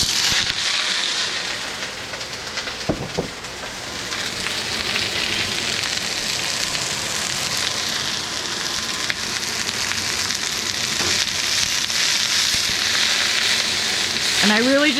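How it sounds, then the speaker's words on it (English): Chinese broccoli stir-fries in a generous amount of oil in a pan, giving a constant, dense sizzle and crackle with occasional scraping stirs, heard up close. "So now we're just stir frying broccoli."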